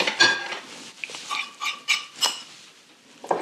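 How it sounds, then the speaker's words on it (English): A spoon works icing sugar and flour together in a bowl, giving intermittent scraping strokes and light clinks against the bowl's sides, close up with no talking. "mix the icing sugar, then the flour together"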